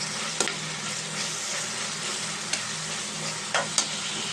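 Onions and green chillies with curry leaves fry in a pan for a chicken fry, a continuous close sizzle broken by occasional sharp scrapes of a stirring spatula.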